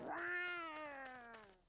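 A hooking cat monster in the MMO Legend of Mir lets out a single drawn-out meow that slides downward in pitch, clear and close with nothing else around it.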